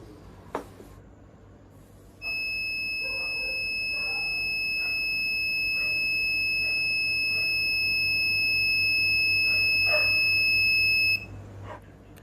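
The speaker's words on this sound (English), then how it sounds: "We have connected the buzzer for our convenience to check whether the moisture sensor is working correctly or not." A moisture sensor's shrill electronic buzzer sounds one continuous, piercing tone for about nine seconds, then cuts off, with faint background noise around it.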